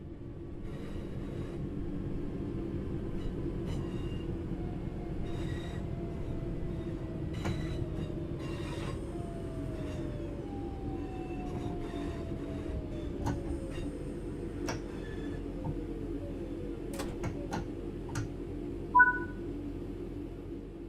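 A train in Train Sim World 5 runs steadily with a low rumble of motion. Rail clicks, squeals and brake hisses come through, along with a few short beeping tones near the end and no voices.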